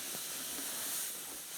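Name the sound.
steam hissing while heating wood to bend lyre sides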